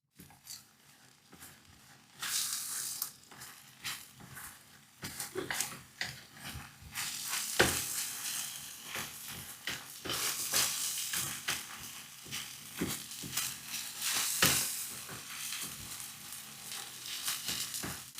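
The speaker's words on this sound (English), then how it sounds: "With cold oil, add all the eggs." Eggs sizzling in oil in a frying pan over medium-low heat, crackling steadily and building in intensity, with frequent scraping and clicking of a utensil stirring them, close and continuous.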